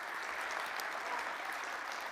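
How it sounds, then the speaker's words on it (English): An audience at a township address applauds, an even, continuous patter of many hands clapping, fairly soft and distant throughout. "let's give a huge round of applause to the people that kicked off today."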